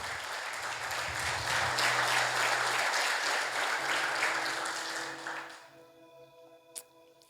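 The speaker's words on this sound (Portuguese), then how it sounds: "Aplaude o Senhor Jesus" Congregation applauding in a church service, a full round of many hands clapping with a low musical tone beneath, building and holding for several seconds before dropping away to sustained tones and a few scattered claps.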